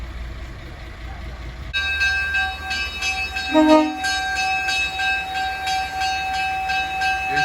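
A moving train heard from inside a private caboose on a rare mileage trip, steady rumble and rattle that grows louder after a quiet start, with a brief deep tonal hum partway through and one spoken word.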